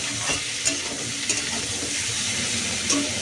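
Vegetables fry in a pan while being stirred: a continuous hiss of sizzling oil with soft scraping and a few sharper clinks of the spoon against the pan. There is no speech.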